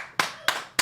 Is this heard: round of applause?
yes